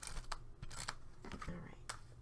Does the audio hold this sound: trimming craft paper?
yes